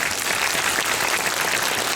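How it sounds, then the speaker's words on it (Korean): Movie talk-event audience in a theater gives a dense, loud burst of applause, continuous and uniform for the whole moment. "여러분 박수 한번 부탁드릴게요"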